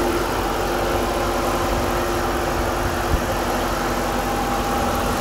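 A 2008 Dodge Challenger SRT8 with its 6.1-liter Hemi V8 idles steadily, a loud, even engine rumble with constant vibration and no voices over it.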